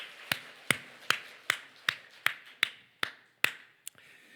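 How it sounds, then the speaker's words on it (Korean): About ten sharp, evenly spaced claps ring out during a church festival worship service, crisp and isolated against a quiet background, each with a short reverberant tail. "박수 한번 하겠습니다."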